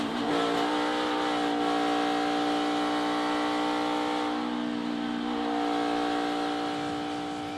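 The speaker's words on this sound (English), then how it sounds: "Let's ride with him and listen to that right side and rear." Onboard a stock car in the 2019 Daytona 500, a loud, steady engine drones at high revs alone, with a slight shift in pitch partway through.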